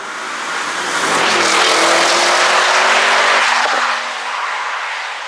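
An Audi RS7 Performance passing at speed, a loud car roar swelling and fading with a squealing, tyre-like tone over the top, close and with no one speaking.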